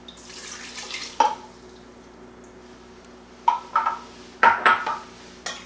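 Beaten egg, water and warm whole milk poured into a bowl, heard as short splashy bursts and clinks between quiet pauses, with no one talking.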